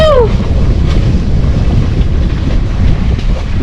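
A heeled-over sailboat moves under wind, with loud rushing wind and water wash dominating close to the microphone and a faint rattle of a table in the cabin, no talk.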